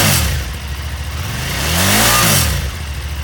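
A used 2013 KTM 990 SMT sport-touring supermoto's engine idles close by, then is blipped into one rising and falling rev before settling back to a throbbing idle.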